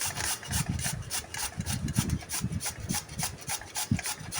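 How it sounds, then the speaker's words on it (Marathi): Peeled beetroot is rubbed on a kitchen grater in quick, even rasping strokes, a close, dry scraping rhythm repeated steadily throughout with no talking. "आता हे बीट मी किसून घेत आहे।"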